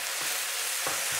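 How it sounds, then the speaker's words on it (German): A cheeseburger pasta mixture of ground meat and strained tomatoes sizzles steadily in a pan, with a couple of soft stirring scrapes, fairly quiet and without talk. "Trotzdem kurz einmal die ganze Masse nochmal schön anbraten."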